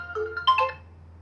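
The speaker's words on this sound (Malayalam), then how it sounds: "ആൾ വിളിക്കുന്നുണ്ട്, നമുക്ക് ഫോൺ എടുക്കാവേ" A mobile phone rings with an incoming call: a short electronic ringtone melody of bright tones, played clearly and alone at close range.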